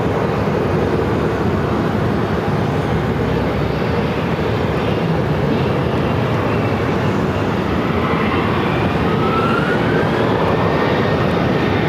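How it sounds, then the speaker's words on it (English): An American Airlines Airbus A321neo arriving at Phoenix airport after a flight from Miami, its engines a loud, steady broadband roar that holds for the whole stretch with no talk over it. "This American Airlines A321neo just arrived from Miami."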